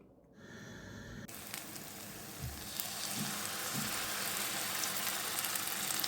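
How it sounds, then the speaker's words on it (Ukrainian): Oil starts sizzling and crackling loudly after a quiet start as potato pancakes go into the hot pan, building into a steady frying hiss with occasional soft thumps. "Чекаємо, коли вона стане гаряча, і починаємо смажити наші деруни."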